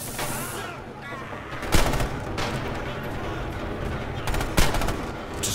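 Rapid machine-gun fire from Red Orchestra 2 rattles throughout, punctuated by a couple of louder, sharper shots, with a voice briefly mixed in.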